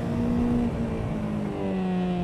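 A motorcycle engine hums steadily at moderate revs while riding, a continuous droning tone with a slight pitch shift as the throttle eases.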